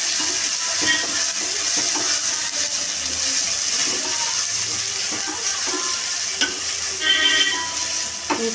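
Ingredients for a paneer and soya chunk biryani fry in a pan with a continuous crackling sizzle and hiss, joined by occasional scraping stir strokes, close and steady throughout.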